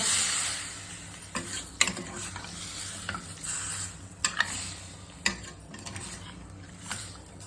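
Baby shark fish curry with onion masala is stirred in a pan, bringing a soft background sizzle and irregular sharp scraping knocks of the spoon against the metal, close up and fairly quiet.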